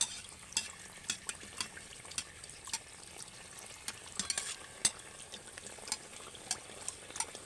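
Palm pitha deep-frying in oil while the oil is gently stirred: a quiet, bubbling sizzle peppered with many small crackles and ticks, soft and steady throughout.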